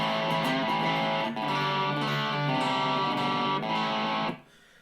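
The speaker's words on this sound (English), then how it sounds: "So that's just with a bit of distortion." An electric guitar chord from a Brian May Red Special replica with an RS pickup upgrade rings out with a mildly distorted, buzzy tone, sustained for about four seconds before being cut off abruptly.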